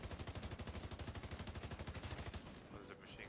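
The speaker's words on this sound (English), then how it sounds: "Oh, there's a machine gun behind us." A machine gun fires from behind the players in the video game The Division 2, a rapid, evenly spaced rattle of shots lasting about two seconds before cutting off. It sounds faint and distant, and voices are heard around it.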